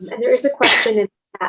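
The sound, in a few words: sneeze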